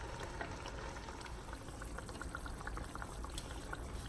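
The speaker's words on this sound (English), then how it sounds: "Then I'll pour my blended tomatoes inside and wait for it to" Blended tomatoes poured into a hot cooking pot for palava sauce, a faint continuous bubbling and sizzling wash of liquid with soft crackles throughout.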